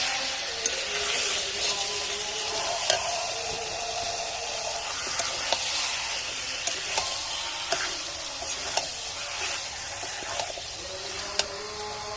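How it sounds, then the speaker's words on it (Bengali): Meat and potatoes with salt and turmeric are sautéed together in a pan, a continuous sizzle punctuated by regular light ticks and scrapes from stirring. "এবার ভালো করে একসঙ্গে কষিয়ে নেবো"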